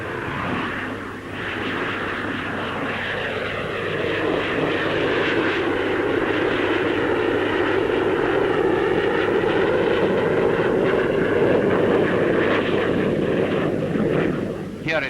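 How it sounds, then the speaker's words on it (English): Gloster Javelin two-seat radar-carrying fighter jet climbing at the Farnborough air show in the 1950s, a loud sustained jet roar that swells and holds steady across the clip. "Among the fighters on show is the two-seater radar-carrying Gloucester Javelin."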